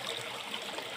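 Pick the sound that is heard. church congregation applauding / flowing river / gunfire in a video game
flowing river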